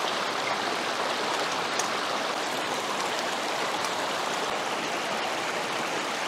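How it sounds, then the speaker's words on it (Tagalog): Steady rushing of a flowing river current beside a campsite, a dense continuous wash of water that stays loud and even throughout, with no voices. "ang ganda po ng tunog ng agos"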